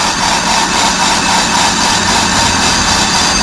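Brake drum lathe in gear cutting a resurfacing pass on a rusty electric trailer brake drum, a loud continuous grinding whir with a steady droning hum and faint rhythmic pulsing, close and without talk.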